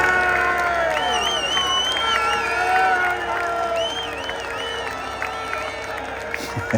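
A packed crowd of football fans cheers and shouts at a trophy celebration as players on an open-top bus rouse them, with loud whoops, whistles and voices swelling, then thinning slightly but staying busy throughout.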